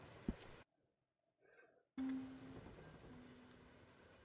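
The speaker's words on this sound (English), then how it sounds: "I guess it's rain technically right now" Rain falls in Red Dead Redemption 2 as a soft, steady hiss, cut by a sudden gap of near silence before returning, with a faint low tone.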